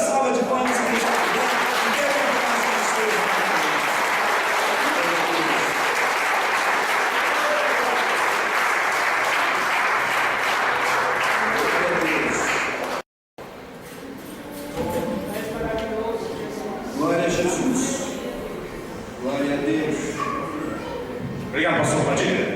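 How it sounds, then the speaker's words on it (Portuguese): A church congregation applauds at a worship service, a dense, loud burst of clapping that fills the first half and then cuts off, followed by a person speaking over the murmuring room. "E a melhor salva de palmas que a gente"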